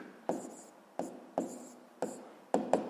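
Pen strokes scratch across paper while a maths solution is written out, five or six short, close scraping marks in an uneven rhythm, with no talking over them.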